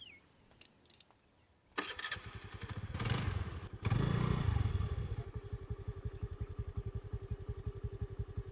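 A motorbike engine starts after a few clicks, revs up twice, then settles into a steady, rhythmic idle putter close by, with no talking over it.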